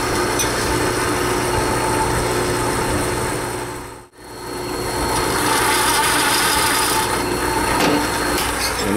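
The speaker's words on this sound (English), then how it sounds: "here I'm going to start tapping them with my tapping head with drill press" Drill press fitted with a tapping head cutting threads into holes in a folding knife liner, a steady close grinding and whirring hum with a brief pause midway.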